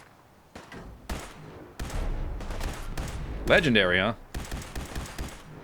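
Bursts of gunfire and explosive blasts ring out during a Fallout 4 firefight in fog, with a drawn-out laser-like energy weapon sound in the middle, while a person talks briefly over the action.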